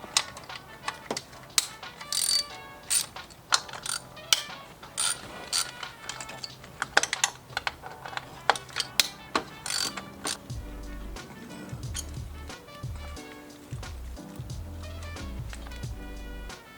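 A hand ratchet loosens 10mm bolts on the coil packs of an Infiniti G35 coupe, giving rapid, close metallic clicking in irregular bursts that ends in a few heavier clunks.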